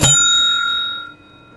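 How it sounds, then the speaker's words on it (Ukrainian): A quiz-game buzzer bell rings once, a bright clear ding that sustains and slowly fades, heard alone. "Дзвони."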